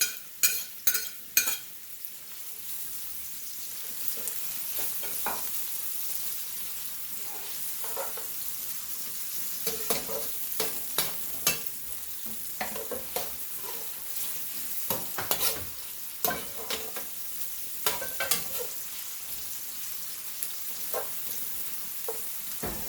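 Potatoes fry with onions and peppers, a steady sizzle broken by repeated sharp scrapes and clatters of stirring, fairly close and moderately quiet, with no talk.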